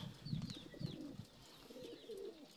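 Racing pigeons coo softly at a loft, low murmuring calls repeating over faint background chirps, quiet and somewhat distant with no speech.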